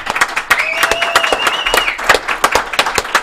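Applause with scattered claps and a few voices breaking through, filling a podcast studio as hosts call for a round of clapping; fairly loud, irregular bursts over about three seconds, with tones from something else running briefly through the middle.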